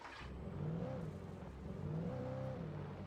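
A car engine drones and revs in two rising swells, a steady mid-pitched motor sound with no voices, in the video game Alan Wake.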